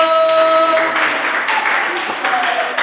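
Church congregation clapping at the close of a baptism lesson, a brief burst of applause mixed with voices and a sustained musical tone fading out at the start.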